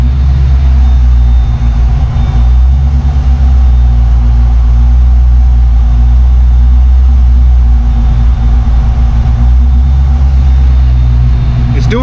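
Car engine idling after a Microsquirt EFI installation, a loud, steady low rumble that holds constant throughout, heard up close with a voice talking over it.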